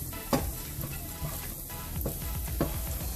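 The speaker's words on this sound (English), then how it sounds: "Once it gets up and sizzling a little bit, then we're gonna get our mushrooms and our beef in there" Mushrooms sizzle in a hot skillet while a Home Chef mushroom and Swiss beef cavatappi is being cooked. A steady frying hiss runs throughout, with a few sharp stirring scrapes and clinks close by.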